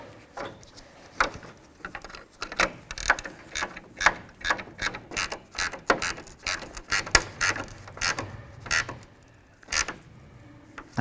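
A ratchet wrench clicks in quick uneven bursts, tightening nuts on a reflector assembly of a 1992-99 GMC K1500 pickup, close and clear with no talking.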